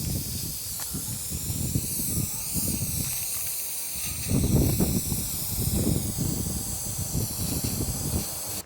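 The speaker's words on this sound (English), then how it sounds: "take your black and spray paint the mountains." Steady hissing spray from an aerosol can, coming in several long bursts with brief pauses, close and fairly loud.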